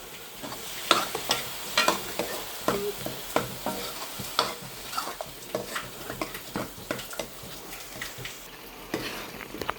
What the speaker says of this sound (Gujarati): હવે તેમાં થોડોક લીમડો એડ કરું છું.